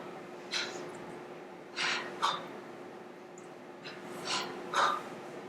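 During a yoga flow from table pose, forceful "ha" breath exhales come as several short, breathy bursts spaced a second or two apart, heard close over a quiet steady background hum.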